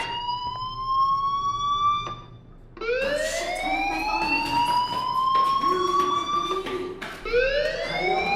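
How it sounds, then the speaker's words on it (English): Fire alarm in the video game Life Is Strange, a loud electronic siren that sweeps upward again and again, with a short gap before the wailing resumes. "do you hear that fire alarm?"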